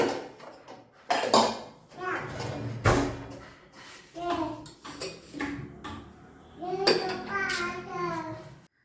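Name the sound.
washed pots and dishes being arranged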